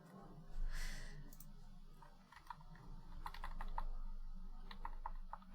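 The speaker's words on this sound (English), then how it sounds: "I'm just typing password." Password typed on a computer keyboard: scattered soft key clicks in short bursts over a low steady hum, with a brief breathy rustle early on.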